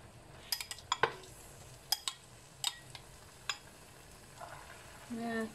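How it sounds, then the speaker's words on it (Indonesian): Potato fritters (perkedel) frying in hot oil in a home kitchen, faint sizzling broken by a series of sharp pops and spatters, then a soft utensil clatter near the end. "Goreng begedelnya."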